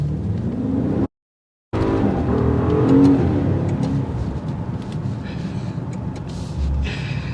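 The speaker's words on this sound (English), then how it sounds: "Ferrari engine, look at this thing." A 2023 Maserati Ghibli Trofeo's Ferrari-built engine revs and accelerates hard, a loud continuous mechanical roar with a brief cutout near the start and rising pitch changes.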